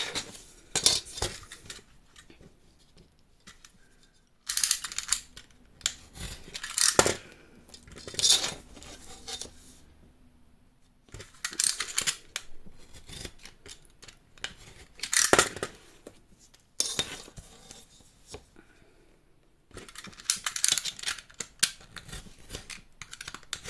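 Scissors snip through paper for a pop-up accordion album, with close, crisp cuts in quick bursts separated by short pauses.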